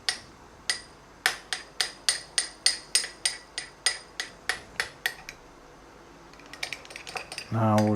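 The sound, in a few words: mixing piri piri seasoned fajita mixture with utensils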